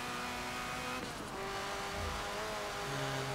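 Race car in Forza Motorsport 7 driving steadily, its engine a sustained humming drone with shifting pitch, a brief rush midway and a low surge near the end, fairly quiet throughout.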